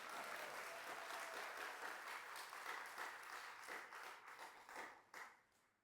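Audience at a devotional gathering on a Kartika pilgrimage clapping in applause, a dense, fairly quiet burst of many hands that thins out and fades near the end.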